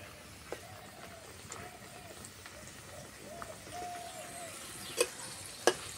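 A snack fries in a pan of hot oil with a faint, steady sizzle, while a voice talks quietly over it and a couple of sharp clinks sound near the end.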